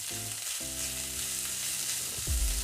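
Onions sizzling in hot oil for mutton keema, a steady loud frying hiss with a brief stir or clatter near the end, alone without talk.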